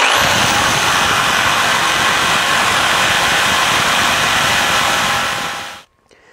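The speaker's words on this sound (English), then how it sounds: "jigsaw, and I'm going to remove kind of the excess material" Jigsaw trimming excess wood from a glued-up step stool blank, a loud continuous buzzing cut with a rough rattling texture running steadily for nearly six seconds, then stopping abruptly.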